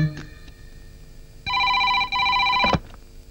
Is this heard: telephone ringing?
yes